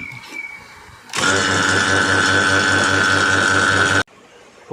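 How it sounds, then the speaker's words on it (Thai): Vacuum pump evacuating the R600a refrigerant system of a refrigerator under repair, switching on abruptly into a loud, steady mechanical drone with a fast pulsing buzz, running about three seconds before cutting off sharply. "ตัวนี้เดี๋ยวผมจะแว็กแค่ประมาณ15นาทีก็พอแล้วนะครับ"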